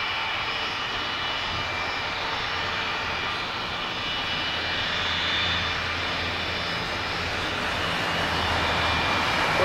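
A Thomson Boeing 757-200 takes off at Madeira Airport, its jet engines producing a loud, sustained roar that swells slightly as it continues, heard from nearby with no talk.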